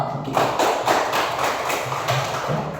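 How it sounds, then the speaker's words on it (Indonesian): A classroom group claps in applause for a student team, producing a short burst of quick, rhythmic hand claps close by, with no talking. "Beri aplaus untuk kelompok 1"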